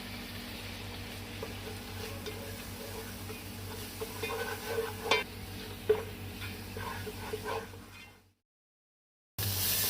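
Red chilli powder, turmeric and garam masala fry in a pan for masala bhindi, giving a soft, continuous sizzle with occasional stirring scrapes and clicks, then briefly cutting to silence before resuming.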